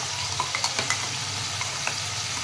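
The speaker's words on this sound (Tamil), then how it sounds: "இஞ்சி பூண்டு பேஸ்ட் இப்போ போட்டுக்கலாம்" Ginger garlic paste frying in a pan for curry leaf chicken gravy, a steady close sizzle with light scraping stirs and small pops scattered through it.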